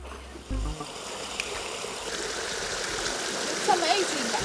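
Water from a public drinking fountain in Sicily rushes into a bottle as a rising, steady splashing hiss, close by, with a brief thump at the start and voices around it.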